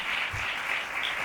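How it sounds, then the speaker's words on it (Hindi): A congregation at a Sunday church service applauds in praise, producing a dense, steady wash of clapping that fills the whole moment without a break. "आइए जोरदार तालियां खुदावंद की हुजूरी के लिए"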